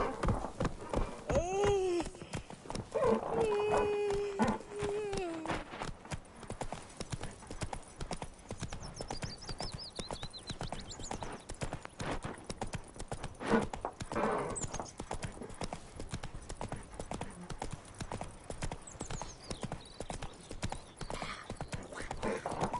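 Roach, a horse in The Witcher 3, clip-clops along at a steady walking rhythm, with whinnies and a low voice heard near the start over the continuous hoofbeats.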